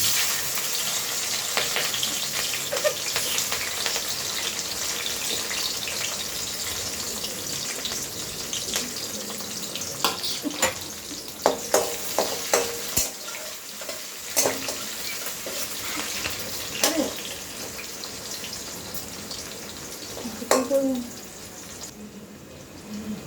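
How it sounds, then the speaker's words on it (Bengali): Capsicum frying in hot gravy for chicken maharaja, a continuous sizzle with bursts of stirring clatter and scraping, close, with some water-like bubbling near the end. "বন্ধুরা, এতে ক্যাপসিকামটা ছেড়ে দিচ্ছি।"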